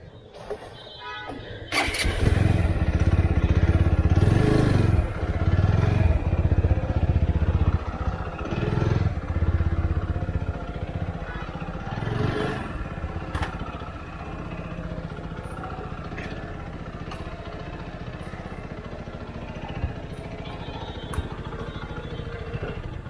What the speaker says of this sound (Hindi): बाइक को घीच घीच के लगाया है।